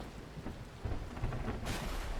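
Steady rain falls in a video game, a dense, even hiss with low rumbling underneath that swells partway through, with no voices.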